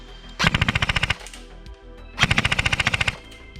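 A Double Bell Mk12 Mod 0 SPR airsoft rifle fires two rapid full-auto bursts through a chronograph, each a loud, close string of about a dozen evenly spaced mechanical cracks, separated by a short pause.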